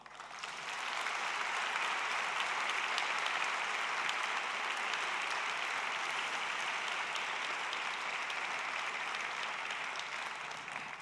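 A crowd applauds at the closing ceremony of a conference, broad sustained clapping that rises quickly, holds steady and fairly distant for several seconds, then tapers slightly at the end.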